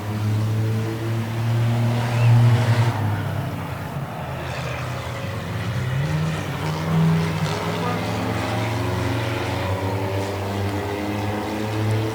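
Race cars roar around a track during a heat race, with engine drones rising and falling as cars pass close by, while an announcer calls the action over the noise.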